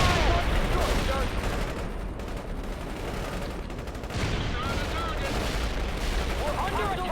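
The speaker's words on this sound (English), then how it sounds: "They're firing at us. We're in a tight spot. Incoming fire." Gunfire and battle noise in the video game World in Conflict: a dense, continuous barrage of shots and explosions fills the whole stretch at steady loudness, with radio-style voices mixed into the combat.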